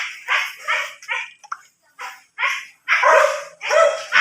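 A dog barks repeatedly in short bursts, close and loud, with a few higher yips mixed in between the barks.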